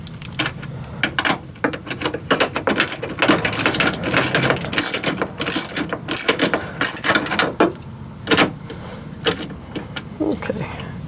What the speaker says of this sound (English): It is a 10mm wrench.